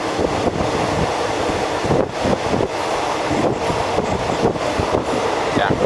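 Thai express train 133 bound for Nong Khai, riding on board: a constant loud rumble with rhythmic wheel clatter and wind buffeting, a voice heard faintly under the noise.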